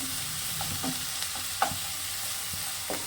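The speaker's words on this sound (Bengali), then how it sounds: "পেঁয়াজটা হালকা ভাজতে হবে বেশি ভাজা যাবে না" Steady sizzling of frying in a hot pan, with occasional scrapes and stirs of a utensil, close and continuous with no talking.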